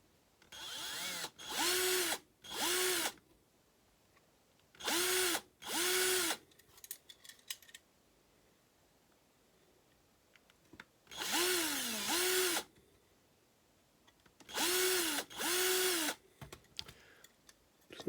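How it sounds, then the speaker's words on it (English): Short bursts of a small power drill boring out rivets on a Corgi diecast Ford Capri 3.0S model, with five or six whining runs of a second or so, separated by quiet pauses and faint handling clicks. "I don't want to drill too far"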